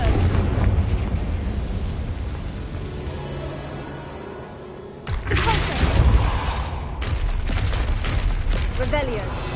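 A Confringo fire blast spell bursts in Hogwarts Legacy, a sudden loud broadband explosion midway through, following a quieter stretch of rumbling ambience with a spoken voice and echoing afterglow.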